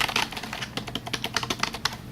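Quick, irregular clacks of typing on a computer keyboard, close and crisp, with no voices.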